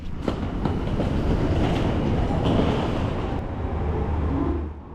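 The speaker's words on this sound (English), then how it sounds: "Our train today is the Yufuin no Mori limited express service from Hakata to Yufuin" A Yufuin no Mori limited express train rumbles steadily alongside at a platform, a broad loud roar with faint rhythmic clacks, fading slightly at the end.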